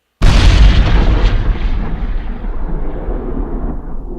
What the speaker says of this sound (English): But this is when the bombs explode.